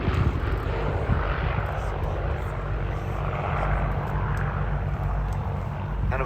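Supermarine Spitfire LF XVIe flying in an air display, its piston engine producing a loud, steady roaring drone that holds throughout without fading.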